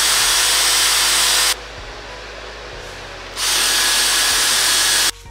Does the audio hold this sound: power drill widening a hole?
yes